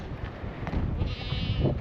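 Goats on a windy farm bleat faintly through steady wind noise, several soft calls scattered across the stretch, with no speech.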